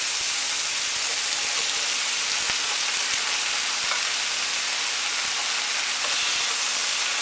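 Bacon and onion sizzle steadily in an electric frying pan, a continuous loud hiss with faint crackles and no talking.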